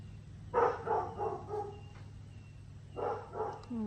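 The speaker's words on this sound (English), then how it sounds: "The dogs have decided somebody coming next door is not who they want." Dogs bark at someone arriving next door, heard from indoors with two short clusters of barks separated by a pause, moderately distant.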